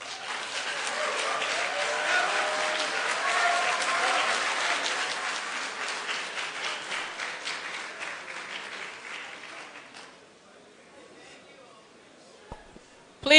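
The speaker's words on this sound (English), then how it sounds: "Please control the clapping." Applause and some crowd noise from the audience at a 2017 presidential debate, loud at first and then thinning into scattered claps that fade toward quiet, with a few sharp knocks near the end.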